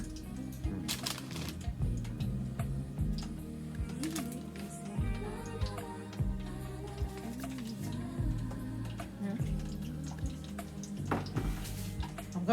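Homemade doughnuts frying in hot vegetable oil, a steady close crackle and bubbling with scattered pops and drips running through the whole stretch.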